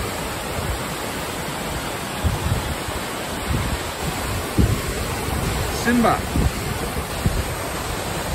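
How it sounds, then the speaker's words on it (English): Materuni waterfalls in Tanzania, a constant broadband rush of falling water with wind buffeting the microphone, while a voice calls out briefly and a few short knocks and sounds rise over the roar. "Wow guys, the Materuni waterfalls."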